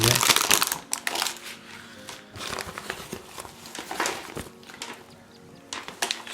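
Close, crisp crinkling of a plastic bag being handled in irregular bursts, with a voice talking quietly alongside.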